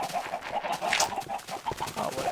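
Chickens in Minecraft cluck in a steady run of short, repeated calls, close and fairly loud, with no talking.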